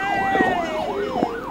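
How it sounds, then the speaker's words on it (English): An ambulance siren wails steadily in a rising and falling pattern, loud and close, at a roadside crash scene in traffic, with faint background noise and no talking. "Because this is an ambulance there."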